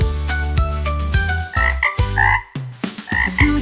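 Frog croaks in a children's nursery rhyme song, repeated rhythmic croaking calls set within loud, bouncy music.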